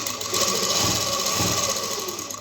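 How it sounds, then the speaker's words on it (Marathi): Simple domestic sewing machine stitching fabric for cord piping, a close, steady mechanical whirring with a rapid rhythmic clatter running for a couple of seconds. "आता ह्याच दाबावर मी तुम्हाला शिलाई करून दाखवते"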